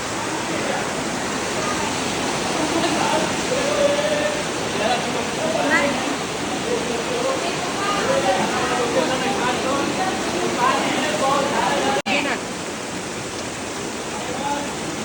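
Flowing water in Dehradun, Uttarakhand, a loud, steady rushing roar that fills the whole stretch without pause, close by and unbroken, with only a brief click near the end.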